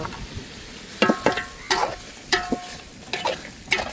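Pork pieces and onions frying in oil in a pan, with a steady sizzle broken by several loud scraping stirs of a spoon against the pan.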